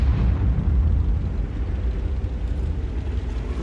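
Tank cannon fire in a tank video game, heard as a loud, sustained rumbling low-frequency blast that rolls on steadily without a distinct sharp onset, with no talking over it.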